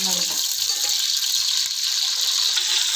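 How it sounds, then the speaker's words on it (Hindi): Measured water pouring steadily into a pot of rice for cooking cumin rice, a continuous close gushing splash with a brief low clatter at the start. "अब हम इसमें ये जो पानी है माप के रखा हुआ है तो वो डालते हैं।"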